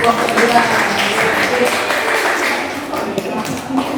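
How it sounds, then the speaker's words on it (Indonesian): A group of students claps together in a classroom after a presentation in a Fikih lesson at IAIN Palangka Raya. The brisk, even clapping fills the room for a few seconds, with faint voices underneath. "Tepuk tangan."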